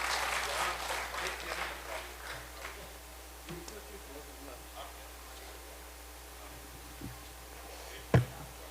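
Audience applause at an Urdu mushaira poetry gathering in Riyadh, scattered clapping that fades over several seconds, fairly faint and distant, ending with a single louder knock.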